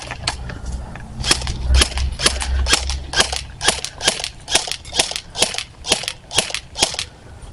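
A gun fires at a target in a steady series of about fifteen sharp, close, evenly spaced cracks, each short and snappy, with no voices.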